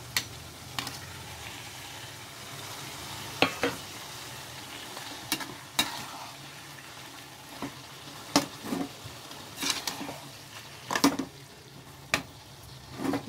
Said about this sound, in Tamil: இப்போ இந்த தக்காளியும் சேர்ந்து நல்லா வதங்கணும்